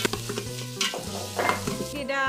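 Curry leaves drop into hot oil in a home kitchen and crackle and sizzle loudly, with bursts of popping and a stirring scrape over a short stretch.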